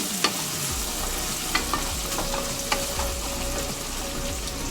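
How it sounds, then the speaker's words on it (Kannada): Kasuri methi frying in a pan of rice for bagara rice, a soft steady sizzle with a few sharp stirring clinks and scrapes spread through, no talking. "ಒಂದು 5 ನಿಮಿಷ ಚೆನ್ನಾಗಿ ಫ್ರೈ ಆಗಲಿ."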